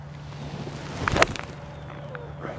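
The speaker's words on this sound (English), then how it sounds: "I'm just gonna hit a ball here." A golf wedge strikes a ball outdoors, giving a single sharp close impact crack that stands out over a steady background of wind and low hum.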